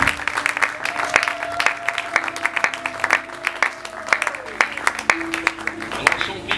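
Church congregation applauding and cheering in praise of God, dense sustained clapping with crowd voices and a tonal musical line running beneath, fairly loud throughout.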